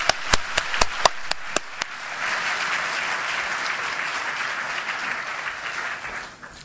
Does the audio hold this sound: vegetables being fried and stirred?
no